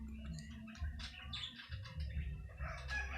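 Chickens kept as lucky animals, with a rooster crowing and hens clucking amid chirping birds, fairly close and continuous over a low rumble.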